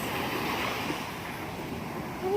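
Sea waves at a beach wash in as a continuous soft roar of surf, with breezy wind noise across the microphone, steady and moderately distant, with no clear voices.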